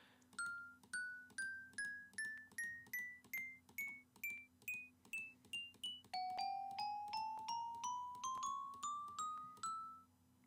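Minecraft note block chimes ring out in a bright, rising run of single bell-like notes, about twenty evenly spaced strikes climbing in pitch, then a second ascending run starting lower, each note clear with a short decay over a steady low hum.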